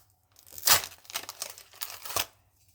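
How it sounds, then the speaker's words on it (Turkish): A paper egg-shaped collectible packet is torn open up close in several quick rips and crinkles, rising to a sharp tear and then a final crumple. "O zaman böyle yumurtalı paketi hemen açalım Pusen'den."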